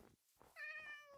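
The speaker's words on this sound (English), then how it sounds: "Hey, kitty cat." A cat meows once in the Minecraft video game, a short, clear, tonal call that comes right after a brief murmur of a voice.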